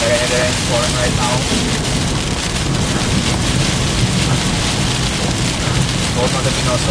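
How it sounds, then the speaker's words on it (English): Very heavy rain pours steadily during a Florida summer thunderstorm, a dense continuous roar with low rumbling and wind buffeting on the microphone throughout, loud and close. "Very heavy rain falling right now."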